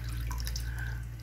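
Clams rinsed and soaked in water while cooking outdoors, with steady faucet-like running water, small drips and splashes over a low constant rumble.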